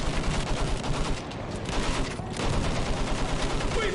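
Sustained machine gun fire in a Battlefield 1 battle, a loud dense stream of rapid shots that runs continuously for a few seconds with only a brief dip.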